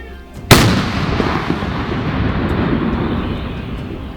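One massive blast from a 2S1 Gvozdika self-propelled howitzer cracks out suddenly, then rolls away as a long, broad rumbling echo that slowly fades.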